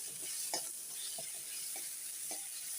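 Cabbage and mushroom masala sautéing in a pan, a steady sizzle with a handful of spoon-scrape stirring strokes spaced across the moment, no voices.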